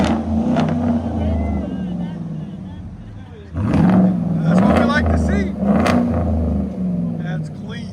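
A 2018 Chevy Silverado Z71 with a 5.3L V8 and Flowmaster Flow FX true dual exhaust idles with a deep, steady rumble close by, swelling louder partway through, while people talk over it.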